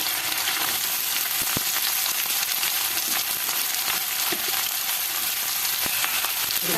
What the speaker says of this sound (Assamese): এতিয়া মই তেল গৰম হ'ল, পিঁয়াজখিনি দি ল'ম।